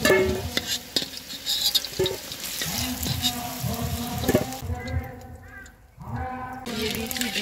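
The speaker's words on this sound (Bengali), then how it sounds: "আলুটাকে সুন্দর করে ভেজে নিচ্ছি" Potatoes frying in a pan for chicken biryani, with repeated stirring and scraping over a steady sizzle that drops out briefly, then returns.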